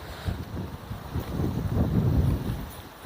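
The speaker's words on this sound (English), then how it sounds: "So as you can see, it is very windy" Wind gusting across an open cemetery on a warm day, a steady low rumbling roar buffeting the microphone and swelling louder toward the end.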